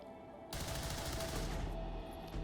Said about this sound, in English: So if this first shot misses, it's game over.